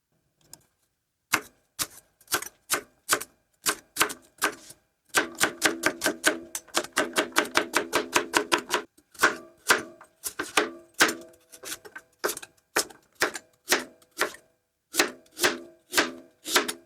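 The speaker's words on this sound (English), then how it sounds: "So let's just slice up our carrots." Knife slicing carrots on a cutting board: crisp, close chopping strokes in uneven bursts, including a fast rapid run in the middle, with short pauses and no talk.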